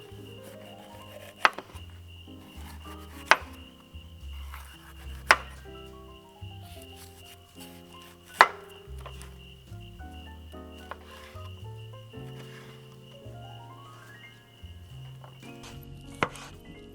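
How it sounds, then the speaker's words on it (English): Knife chopping half an onion and a load of peppers on a board at a campsite, a few sharp loud chops standing out over softer cutting and background music. "I'm gonna go ahead and get started slicing up the veggies"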